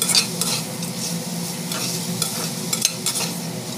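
Green chillies sauté in a salted pan with a close, continuous sizzle while a spoon stirs them, scraping and clinking at irregular moments.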